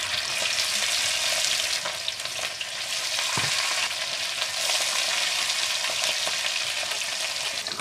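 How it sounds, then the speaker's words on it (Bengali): Fish frying in hot oil in a karahi, a loud, dense, continuous sizzle that stays close and steady throughout, with faint spoon scrapes underneath. "তেল গরম হয়ে গেছে, এবারে একটু একটু করে মাছ কড়াতে দিয়ে দেবো।"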